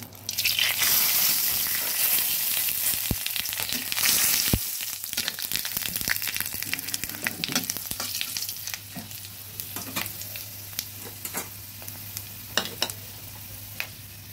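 Bay leaf, cinnamon, cardamom, clove and cumin sizzle in hot oil, an initial bright hiss settling into steady crackling with occasional sharp taps of a spoon against the pan.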